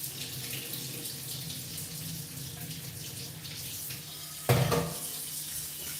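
Tap water runs steadily into a pot for boiling pasta, a continuous hiss and splash heard close up without speech, with a brief louder clunk or splash near the end.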